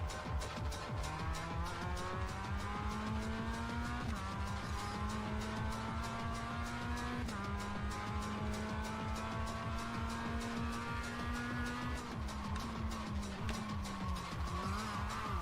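A race car in the iRacing simulator, engine droning steadily with shifting pitch and tires squealing through a corner with slight oversteer, loud and continuous with no talk.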